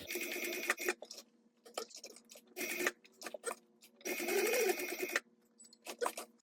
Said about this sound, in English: And then I'm going to go ahead and sew down my tag.